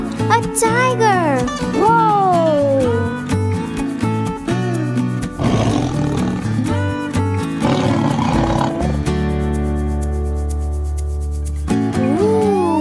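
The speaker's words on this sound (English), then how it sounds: "A tiger!" A cartoon tiger roars in a children's learning game, sounding amid bright music and character voices, with a long sustained roar-like tone near the end.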